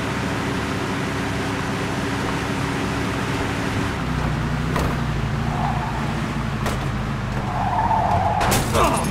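A car in Mafia II driven fast with a steady engine drone and tire skids, the engine note dropping midway, then sharp skid squeals near the end.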